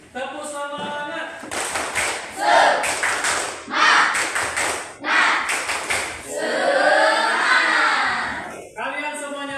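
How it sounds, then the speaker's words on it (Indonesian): A class of children claps out the rhythmic 'tepuk semangat' pattern in loud, close bursts of patterned claps and taps, their voices chanting along in time between the beats. "Tepuk semangat."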